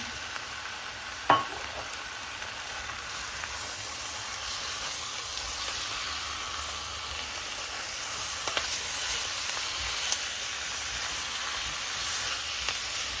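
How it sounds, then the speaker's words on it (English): Beef frying with curry powder in a pot for a beef stew, a steady close sizzle and hiss throughout with an occasional soft clink of a utensil. "then we are going to add our beef"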